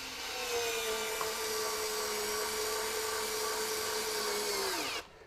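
A Ryobi USB lithium multi-head screwdriver drives a small one-inch drywall screw with a steady, slightly slowing high motor whine that runs for about five seconds before cutting off abruptly.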